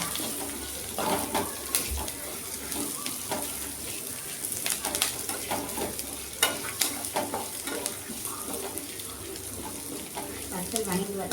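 Dried red chillies fry with onion, ginger and garlic in a pan, giving a continuous close sizzle with scraping stirs and clinks, while a voice talks intermittently over it.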